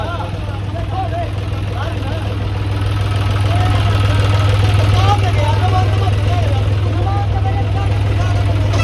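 Tractor engine running steadily during a tractor tug-of-war between a John Deere 5050D and a Powertrac 445, a loud continuous low drone that swells slightly midway, with a crowd talking and shouting over it.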